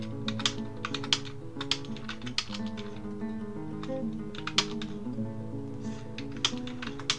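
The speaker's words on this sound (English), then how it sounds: "I still need to get a much less annoying sounding keyboard. Listen to that." Fast, clattery typing on a loud, partly broken computer keyboard, with irregular bursts of close keystrokes and short pauses between runs.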